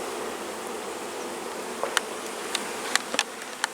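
Honeybees drone in a dense, steady buzz from an open, crowded hive during a routine inspection, close and continuous throughout, with a few sharp clicks and taps from frames being handled.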